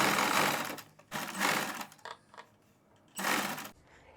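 A sewing machine stitches a neck facing on a suit in three short bursts of rapid whirring, each run stopping and starting again in small steps, close and loud with quiet gaps between.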